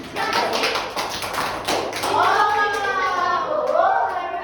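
Classroom of high school students clapping together, steady dense patter of many hands with a voice calling out over it partway through.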